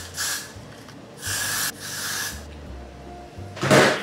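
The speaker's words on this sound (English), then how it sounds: "I'm about to add some Gatsby spray on the top of it." Several hissing bursts of Gatsby hair spray from an aerosol can being applied to finished hair: three short sprays at the start, a longer pause, then a final louder burst, close by and with no talking.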